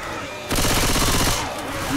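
In Left 4 Dead 2, a sudden rapid burst of automatic gunfire rings out, close and loud, with evenly spaced shots for under a second before it cuts off.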